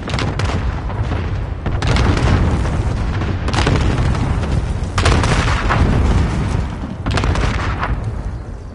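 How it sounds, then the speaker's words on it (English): Cluster strike bombs in a Modern Warfare video game land in a series of heavy, booming blasts, roughly five deep explosions a second or so apart, each with a rumbling tail. "Enemy cluster strike incoming."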